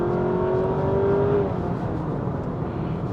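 A Honda Accord RS e:HEV hybrid sedan accelerates with a rising engine whine that climbs for about a second and a half, then settles into a steady, fairly loud drone with no talk.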